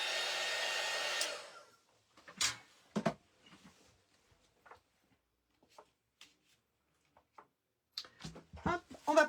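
A hair dryer blows a steady, close whoosh over a freshly painted watercolor for about a second before cutting off, followed by scattered soft handling noises and bits of quiet talk.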